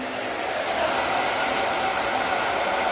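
Hair dryer on high heat blowing steadily on a synthetic wig, a constant loud close-up rushing whoosh that holds level the whole time with no talking.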